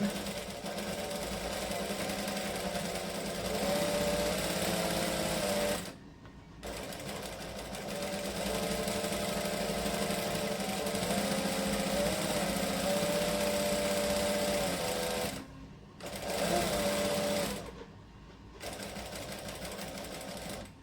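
A sewing machine stitching a tiny hem on fine rayon shirt fabric runs in long, steady, buzzing bursts, stopping briefly three times before starting again, close and fairly loud.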